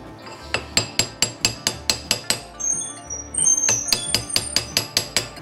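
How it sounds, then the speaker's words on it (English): A chisel struck repeatedly with a hammer drives a brake pad pin back into place on a Himalayan 450 front disc brake, giving a steady series of sharp metallic clinks, loud and close, with a brief scraping pause midway. "So I'm using a chisel to hammer it back into its position."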